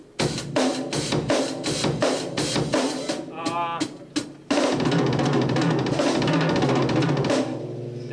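Rapid drum strokes in groups of five per beat, a steady quintuplet pattern with cymbal wash building louder toward the end.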